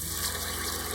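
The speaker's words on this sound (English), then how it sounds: "first we're gonna pour in the broth" Broth pours into a pot for broccoli cheddar soup, a steady splashing liquid wash that stays continuous and close from start to finish, with no talking.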